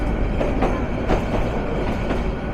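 Agnibina Express passenger train moving at speed on the approach to Jamalpur Town railway junction, a steady loud rumble of wheels on rails with faint rhythmic clicks, no voices.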